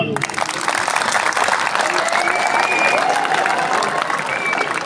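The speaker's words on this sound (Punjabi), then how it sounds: "ਪਹਿਲਾਂ ਆਪਣੇ ਲਈ ਇੱਕ ਵਾਰ ਤਾੜੀਆਂ ਮਾਰੋ" Students in a hall keep up a loud, continuous round of clapping that fills the space without a break, with crowd noise mixed in.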